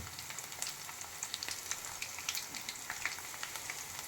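Paneer popcorn frying in oil, a soft, steady sizzle with scattered crackling pops, fairly quiet and close, with no voices.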